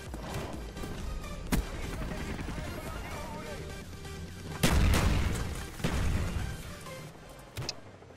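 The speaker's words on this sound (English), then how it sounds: "he's going to be firing tube off the CP" Grenade launcher tube fired in a multiplayer shooter game match, a sharp thump followed by a loud, booming impact explosion with a tail of rumble and a smaller blast afterward, over constant game noise.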